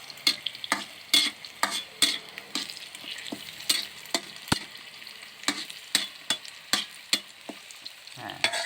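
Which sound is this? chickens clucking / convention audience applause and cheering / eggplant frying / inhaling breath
eggplant frying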